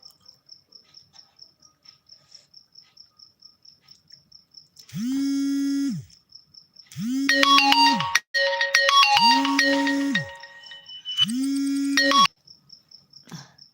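A melodic mobile phone ringtone plays in four repeated bursts, separated by short pauses, over a steady background chirping of crickets.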